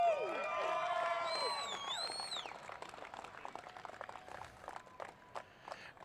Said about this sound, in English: One more round of applause for your round winners